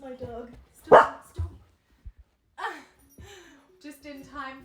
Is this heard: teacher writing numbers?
no